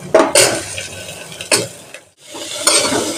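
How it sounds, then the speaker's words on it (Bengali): Chopped onion, green chilli and vegetables for oats khichuri tossed into a pan, with several clattering bursts of stirring and scraping separated by short quiet gaps. "পেঁয়াজ কুচি, কাঁচা ঝাল, এক এক করে সবজিগুলো দেবো।"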